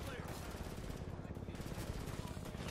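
Sniper and other gunfire in Frontlines: Fuel of War: a steady, dense crackle of shots, fairly quiet and continuous, with faint talk mixed in.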